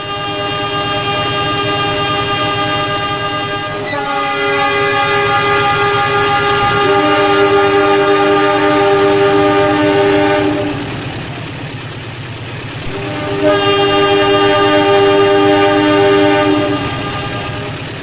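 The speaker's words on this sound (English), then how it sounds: "If you have watched that last part of the video of the train moving" A train moving at speed rumbles steadily while its horn sounds in several long, sustained blasts, one after another, loud and close, with no voices.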